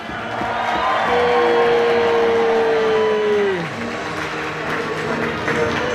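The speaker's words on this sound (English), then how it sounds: "raise a mighty cheer for our host" Crowd cheering and applauding for the host at a Medieval Times dinner and tournament show, a loud sustained roar from a large indoor audience, with a held musical tone or horn running partway through.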